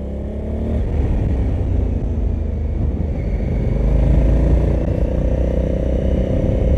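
Honda Africa Twin motorcycle engine accelerating with a steady low rumble that climbs gradually in pitch, loud and close throughout with no talking.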